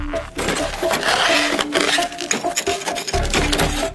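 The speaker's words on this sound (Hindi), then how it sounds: "अब वो एक चिसल से मोटी बर्फ को काट रहे हैं।" Chisel hacking into thick ice on a frozen river in extreme cold, a dense run of scraping, chipping blows that continues steadily and fairly loud for several seconds.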